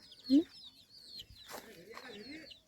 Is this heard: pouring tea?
no